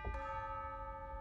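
A single tubular bell note from an orchestral sample library rings out with a bright metallic strike, then a clear sustained shimmering tone that decays slowly in isolation.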